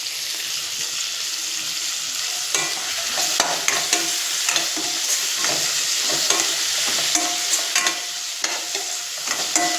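Onions browning in oil for vankaya dum biryani crackle with a continuous bright sizzle, broken by repeated scraping stirs of a spoon through the pan, close and steady without talk.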